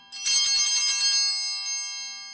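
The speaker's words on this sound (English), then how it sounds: "This is your cue to ring the bells 1 time." A cluster of small altar bells rings once at the consecration of a Tridentine Mass, giving a bright, close jingle that fades away slowly.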